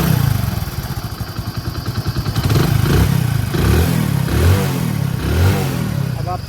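A Hero motorcycle engine with a weak battery idles with a rapid, throbbing putter, then revs up and settles into a loud, steady running rumble nearby.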